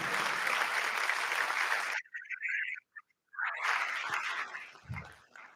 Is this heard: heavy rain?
no